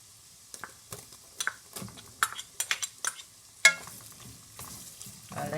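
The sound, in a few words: garlic and onions frying in a pot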